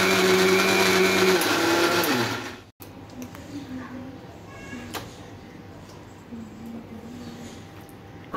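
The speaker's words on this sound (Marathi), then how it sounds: "मग आता हे थोडेसे देठ आहेत ना, ते धुवून मी हेही मिक्सरमध्ये लावणार आहे." A kitchen mixer grinder whirs loudly for about two and a half seconds as it grinds washed coriander stems, then cuts off sharply, leaving quieter room noise with some faint tonal sounds.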